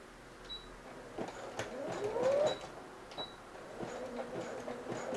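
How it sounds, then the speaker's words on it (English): A sewing machine stitches elastic onto the waistband of a pencil skirt in short, mechanical runs close by, with faint clicks and handling sounds under a steady room hum. "you're just going to stitch that elastic right on down"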